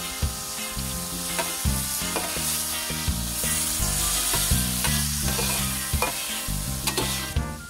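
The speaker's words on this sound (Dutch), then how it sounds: "Roer de boel door elkaar. En laat ook dit weer even enkele minuten bakken." Seafood fries in olive oil for paella, a loud, steady sizzle close up, broken by repeated scraping and clattering strokes as the pan is stirred; no talking.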